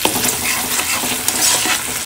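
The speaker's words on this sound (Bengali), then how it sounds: "আর এই পনিরটা আমি এখানে দেবো।" Paneer added to a hot frying pan with ghee and stirred, a loud dense sizzle with scraping spatula strokes throughout, close and without talk.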